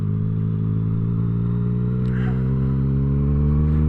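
A 2018 Yamaha MT09 motorcycle engine idles steadily and close by, a low rumbling drone holding even through the whole stretch, with a faint clatter partway in.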